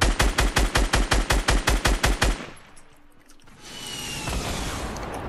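Rapid automatic gunfire in Fortnite Battle Royale, a dozen loud evenly spaced shots over about two seconds, followed by a brief lull and then rising ambient game noise.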